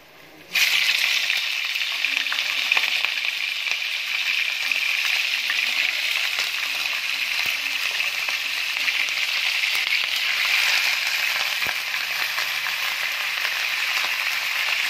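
Cardamom, cinnamon, mace and cloves sizzle in hot oil, a steady loud hiss that starts suddenly and keeps up throughout, with faint clinks and some soft background sounds.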